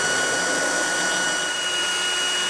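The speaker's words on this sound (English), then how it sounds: "I've got a drill with a diamond tile drill bit." A power drill fitted with a diamond tile bit bores a drainage hole through a succulent pot, giving a loud, steady, close-up high-pitched whine that holds unbroken throughout.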